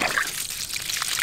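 Water gushing from a newly fitted pipe tap as gravity flow backflows out at an off-grid creek homestead, a steady splashing pour heard close for about a second.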